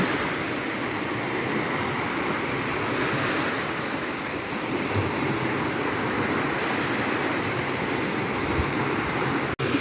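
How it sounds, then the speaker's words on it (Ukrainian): Black Sea waves wash steadily onto the beach at Odesa, a continuous close surf with a broad, even rush and no voices. "подивлюсь на море, послухаю море"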